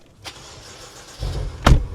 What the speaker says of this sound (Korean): 배기소리 다르네